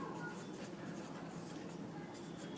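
A pen scratches faintly across paper while a geometry proof is written out, soft continuous strokes with small bursts of scribbling, close and quiet.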